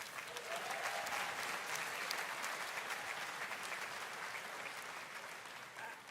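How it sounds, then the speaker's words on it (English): A large audience applauds steadily, a dense wash of clapping that holds at an even level for several seconds. "That deserves a round of applause."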